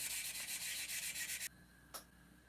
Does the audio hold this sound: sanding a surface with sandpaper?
yes